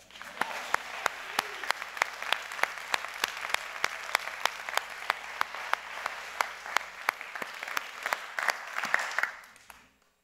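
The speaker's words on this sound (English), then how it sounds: "I would like to give her another round of applause." Audience applause at an International Day of Peace celebration, a steady wash of many hands clapping for about nine seconds with sharp individual claps standing out, then fading to silence.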